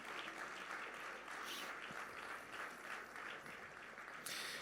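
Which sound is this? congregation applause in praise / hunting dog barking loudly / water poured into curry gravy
congregation applause in praise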